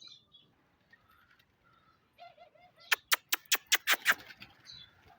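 A burst of rapid wing flaps from pigeons taking off nearby, a quick series of sharp claps after a few soft calls and rustles.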